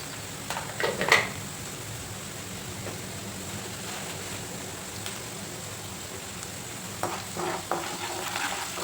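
Turmeric-and-salt masala for egg bhurji stirred in a frying pan, a soft continuous sizzle with a few sharper spatula scrapes near the start and end, fairly quiet and without talk.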